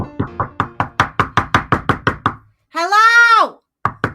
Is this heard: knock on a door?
yes